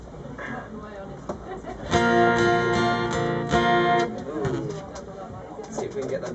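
A harmonica sounds a sustained chord for about two seconds at a live show at Pocklington Arts Centre, with quieter room noise before and after.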